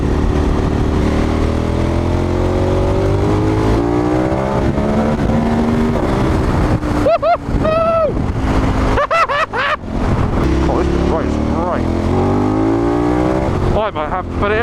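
A KTM 1290 Super Adventure S motorcycle engine droning and revving on the A39 Atlantic Highway in Cornwall, loud and continuous with rising and falling pitch, partly under a rider's talk.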